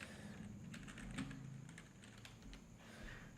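Keys are tapped on a computer keyboard in quick, scattered bursts, quiet and close with a faint hum underneath.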